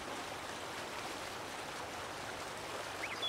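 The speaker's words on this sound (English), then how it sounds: "So you've got the waterfall here." A waterfall in Farming Simulator 19 rushes as a steady, even broadband hiss of flowing water, constant and fairly faint, with no voices over it.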